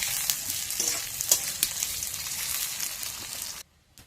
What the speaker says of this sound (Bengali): এখানে আমি কিছুটা গোটা পেঁয়াজ কেটে রেখেছি, পেঁয়াজে তেলের মধ্যে তুলে দিচ্ছি।